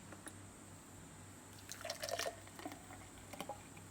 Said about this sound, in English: now we're going to pour it out into this glass that's waiting for me